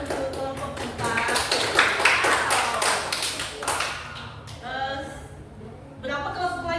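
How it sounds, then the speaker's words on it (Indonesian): Classroom applause for a student group, a burst of uneven hand claps from a roomful of pupils, fairly close and lively, with voices breaking in near the end. "Beri tepuk tangan untuk kelompok 4"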